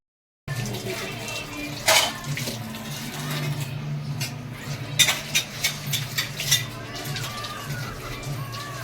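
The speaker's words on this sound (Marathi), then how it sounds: "माझं भांडी घसायचं काम चाललंय" Dishes being scrubbed under running tap water in a home kitchen, a steady wash of flowing water with scattered clinks and knocks of utensils, fairly close, with faint birds outside.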